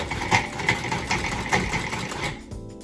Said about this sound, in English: we're just gonna start, I pulse for a little bit